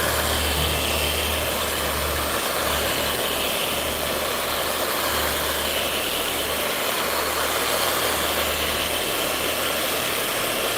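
A rotary polisher runs steadily on a square-body truck hood, a continuous low whir that holds even throughout with no talking.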